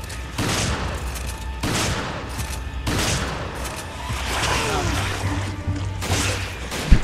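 Gunshots in the video game Resident Evil 5 crack out in several loud, evenly spaced bursts, each with a short ringing decay over a steady low rumble of game ambience.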